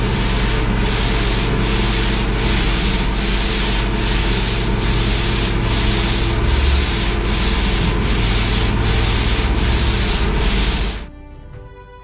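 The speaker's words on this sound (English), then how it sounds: "After all that sanding" Fiberglass filler on a Viking boat hull is sanded with a power sander in a steady, loud rhythmic rasping that pulses evenly for about eleven seconds, then stops abruptly, leaving a quiet tail.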